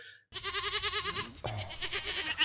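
Several goats bleat on a farm, their wavering, nasal calls overlapping continuously at close range with a brief break midway and no talking.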